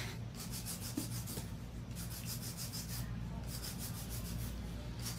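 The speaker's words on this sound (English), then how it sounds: "I'm gonna hand file the base of the nail first, make sure everything's nice and even." A hand file rubs back and forth across the base of an acrylic nail, making soft, close, rhythmic scratching strokes in repeated bursts.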